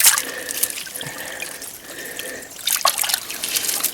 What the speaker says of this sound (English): Of the waterfall.